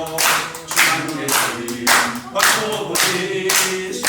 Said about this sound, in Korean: 박수를 치면서 찬송을 하는 거예요